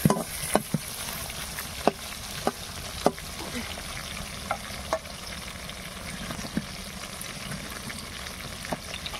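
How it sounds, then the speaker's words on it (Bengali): Japanese puti pond fish frying in a pan: a steady oily sizzle runs throughout, broken by scattered sharp pops and crackles at close range. "তো তার জন্য এই যে মাছ ভাজা করছি"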